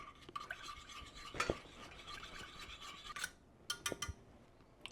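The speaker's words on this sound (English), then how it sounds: "I'm gonna add in some honey and give that a little whisk." Honey being whisked into milk warming on a stove, quiet scraping and rubbing strokes in uneven bursts with a few light clinks against the pot.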